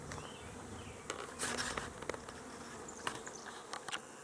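A big swarm of honeybees drones outdoors in a steady, faint buzz, with scattered individual bees zipping close past now and then.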